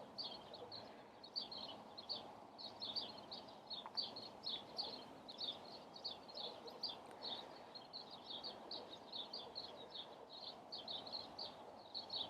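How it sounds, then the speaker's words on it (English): Small birds chirp outdoors in quick repeated bursts of high tweets throughout, fairly faint, over a low steady background hum with no talking. "I'm sorry if you hear the birds. I am sitting outside and recording this voiceover."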